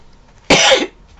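A single loud, harsh cough bursts out close by, lasting under half a second against near silence.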